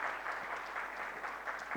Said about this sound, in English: Everyone, can we have a big round of applause for Mr.